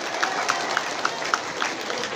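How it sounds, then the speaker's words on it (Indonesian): An audience at an Islamic religious talk at a mosque claps together in a steady, even rhythm, with a wash of crowd noise beneath the beats. Nobody speaks over it. "Tepuk tangan dulu dong."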